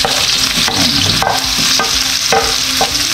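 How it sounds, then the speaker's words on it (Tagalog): Ginger, onion and garlic sautéing in hot oil, a loud continuous sizzle punctuated by repeated scraping and clacking strokes of a utensil stirring in the pan. "Igisa muna natin yung ating ingredients para mas masarap yung ating ginataan."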